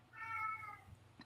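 A house cat gives a single clear, drawn-out meow up close in a quiet indoor room, followed by a faint brief noise at the end.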